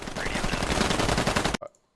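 Rapid automatic gunfire from a squad-based military shooter game, loud and close as a player lays down suppressing fire on enemies in windows, a dense sustained burst that cuts off abruptly into near silence.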